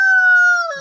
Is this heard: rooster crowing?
yes